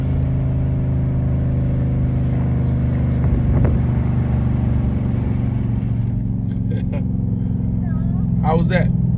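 Inside a moving Dodge Charger, loud steady wind and road rumble fill the cabin throughout, with brief voices and high chirping sounds near the end.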